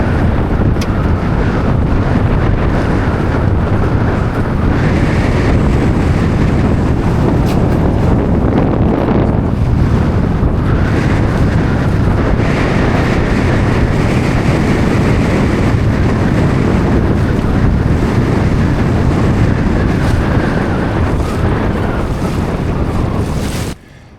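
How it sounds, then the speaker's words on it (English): Wind gusts roar steadily across a Freedom 21 sailboat on Derwentwater, a dense, continuous rush with buffeting on the microphone and water washing around the hull, no voices. "The gusts often come with a change in direction of the wind"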